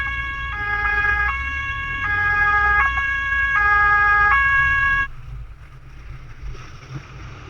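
German police cars sound a two-tone siren on the Autobahn, cycling in a steady loud hi-lo rhythm for about five seconds before cutting off, leaving faint traffic noise.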